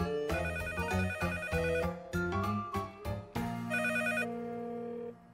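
A telephone rings with a bright melodic ringtone, repeating its pattern of tones in several bursts over about five seconds, clear and close with no talking.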